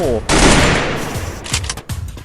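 Gunfire in the video game Free Fire bursts out loud, a dense rapid volley followed by a few separate shots, with a player's voice briefly heard alongside.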